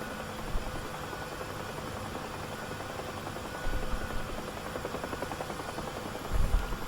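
A helicopter in the DCS flight simulator game drones steadily with a constant rotor and engine rumble and broadband whine, swelling briefly twice, and no one speaks over it.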